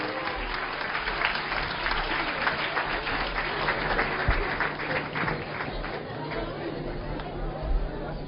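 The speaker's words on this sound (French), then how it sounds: "Applaudissements." An audience at a religious celebration in Lyon applauds warmly, a dense continuous wash of clapping with crowd chatter mixed in, sustained for several seconds.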